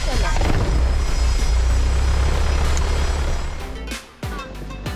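A Grumman Tiger single-engine propeller plane's engine roars loud and close, a dense steady drone that dips briefly near the end before surging again.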